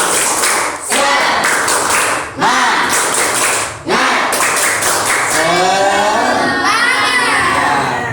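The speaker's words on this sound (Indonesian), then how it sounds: "Sekarang anak-anak tepuk semangat." A class of standing schoolchildren performs a rhythmic spirit clap in an Indonesian classroom, loud close bursts of clapping in patterned groups broken by short pauses, with children's voices chanting along near the end.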